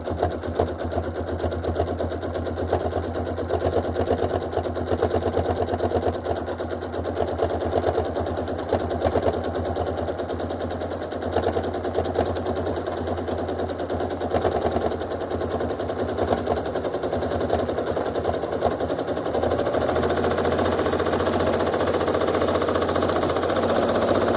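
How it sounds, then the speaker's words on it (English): A sewing machine stitches around a letter on a quilt, a steady fast mechanical whirring and rapid needle clatter running continuously, close and alone. "I'm ready to sew on my quilt."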